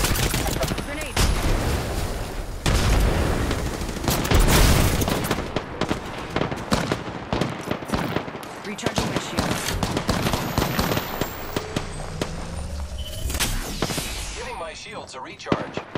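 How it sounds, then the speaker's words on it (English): Rapid bursts of gunfire in the Apex Legends video game crackle almost continuously, loud and close, with sharp shots stacking into sustained volleys and a speaking voice mixed in. "The enemies are shooting at me. Getting shot at."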